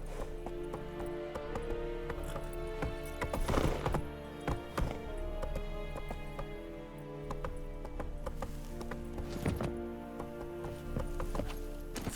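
Roach, a horse in The Witcher 3, gallops with steady rhythmic clip-clop hoofbeats over a continuous game music bed, with a few louder thuds midway.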